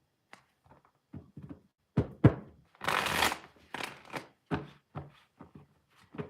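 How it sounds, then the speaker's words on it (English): Tarot cards being shuffled by hand on a quiet morning, a string of short riffling and tapping bursts with one longer rustling shuffle in the middle, close and fairly soft. "I'm sitting here shuffling cards"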